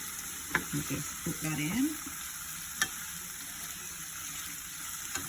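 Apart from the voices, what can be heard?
saltfish sauteing with seasoning in pan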